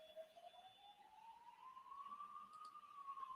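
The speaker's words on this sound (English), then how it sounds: "we've got a siren going past outside" An emergency vehicle siren passes outside in a large city, a single rising and falling wail heard faintly through walls and steady for a few seconds, with no talking.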